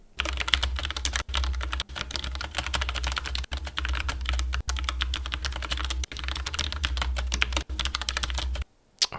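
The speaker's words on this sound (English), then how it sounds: "we had keys playing in the background. It's synced with how the lines show up" Keyboard typing sound effects play continuously on a website landing page, a steady rapid patter of keystrokes with a few brief gaps, ending in a short silence.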